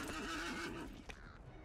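A horse in the video game Lord of the Rings Online lets out a single wavering whinny at close range, followed by a soft thud and faint hoof sounds.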